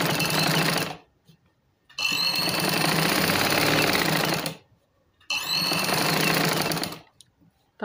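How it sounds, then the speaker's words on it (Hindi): A domestic sewing machine stitches around a garment neckline in three loud, steady runs of mechanical whirring and rattling, separated by short pauses, close up with no talking. "ऊपर से एक सिलाई लगा देंगे."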